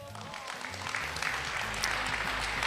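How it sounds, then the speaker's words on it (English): Applause at a European Youth Capital 2028 award ceremony, a steady dense wash of clapping from an audience running throughout, with music or low voices underneath. "So, applause for them."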